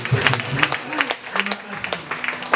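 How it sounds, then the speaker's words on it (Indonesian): Scattered hand clapping from a church congregation, uneven and lively, mixed with voices talking over it. "Give Jesus a mighty hand clap."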